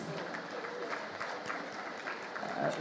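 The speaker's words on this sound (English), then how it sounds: "A round of applause," Applause from an audience at a gala dinner for the Africa Food Prize, a dense, steady patter of many hands clapping at moderate distance, with some crowd murmur underneath.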